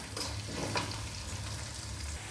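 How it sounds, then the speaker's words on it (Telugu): Tempering spices frying in hot oil in a pan before curry leaves go in, a steady close sizzle with a couple of crackling pops and stirring, no talking. "పోపు వేగిందండి ఇప్పుడు కరివేపాకు వేసేద్దాం"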